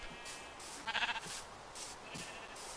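Sheep bleating in the video game Minecraft, a short burst of a few quick wavering bleats in the middle, standing out over a quiet repeating background of game sounds.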